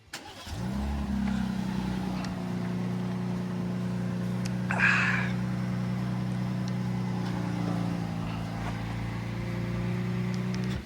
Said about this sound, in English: If you hit lock and you press this thing twice, you'll get the truck to start right up